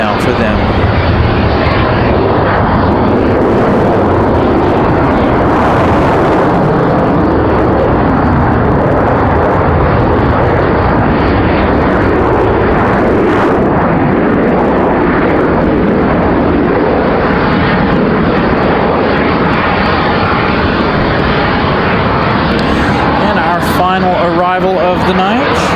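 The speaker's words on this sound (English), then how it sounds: "As Delta floats that 737 in." A Delta Boeing 737 landing in windy weather at Raleigh-Durham, its loud, steady jet roar filling the whole stretch close by, with a voice talking over it.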